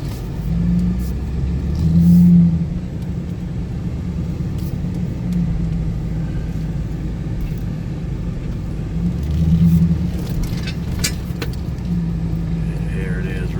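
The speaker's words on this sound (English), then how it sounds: "Parks his truck in this alley." A truck rolls into an alley and parks, its low engine rumble steady and close, swelling twice as it accelerates, with some low voices in the background.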